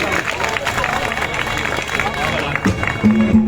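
Crowd at an INLD political rally in a Haryana village breaking into clapping and cheering, a steady wash of applause and hubbub close by with someone speaking over it.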